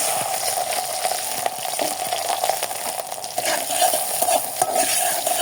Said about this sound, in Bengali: পেঁয়াজ মরিচ দিয়ে একটু ভালো মতো ভেজে নেব, হালকা ভেজে নেব।